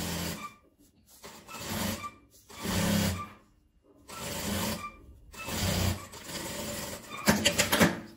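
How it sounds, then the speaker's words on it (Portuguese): A domestic sewing machine stitches satin ribbon and fabric scraps in several bursts of a few seconds each, separated by short pauses. The whirring runs moderately loud and close, with no talk over it. "Dou um pezinho de máquina e venho costurando."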